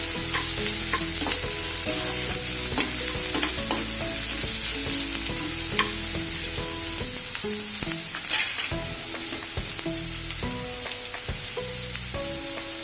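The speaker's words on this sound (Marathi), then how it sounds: "कांदा थोडा मऊ पडेपर्यंत आपण त्याला परतून घेऊ" Chopped onions sautéing in a pan for a monsoon vegetable dish, with steady sizzling and repeated stirring scrapes over tonal background music throughout.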